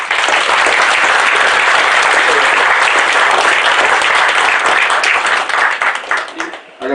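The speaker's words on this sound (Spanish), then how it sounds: "Les pido por favor un fuerte aplauso" Loud, sustained applause from a conference audience, dense clapping that holds steady for several seconds before thinning and dipping near the end, with a few voices mixed in.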